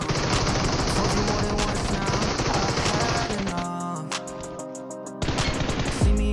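M4 rifle fire in a video game shooter, with loud, rapid automatic bursts rattling almost continuously, a brief thinning in the middle and then another burst.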